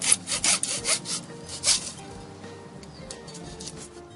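A handsaw cuts through a bougainvillea bonsai branch in quick rhythmic rasping strokes, close by, then settles into quieter, slower scraping toward the end.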